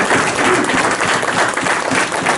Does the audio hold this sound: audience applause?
yes